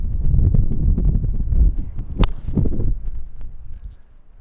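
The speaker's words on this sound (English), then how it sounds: "Got about 15 miles an hour wind behind me." Strong wind of about 15 mph gusts and buffets the microphone on a very windy seaside golf course, a loud rumbling roar that slowly fades away, with one sharp click partway through.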